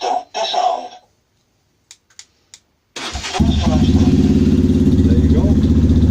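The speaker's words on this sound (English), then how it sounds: "There's your Jayne exhaust running now. As you can hear, it's quite throaty." A Honda CBF125 motorcycle with a throaty aftermarket Jayne exhaust fires up after a few short beeps and settles into a loud, steady, deep idle with a rumbling pulse. Brief talk comes first, before the engine starts.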